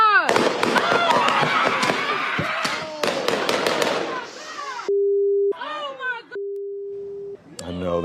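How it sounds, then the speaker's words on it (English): Gunfire exchanged between police officers and a man: a rapid burst of many loud, sharp shots in quick succession, with a steady tone beeping in the pauses and a few further bangs afterward. "there was an exchange of gunfire between the man and the officers"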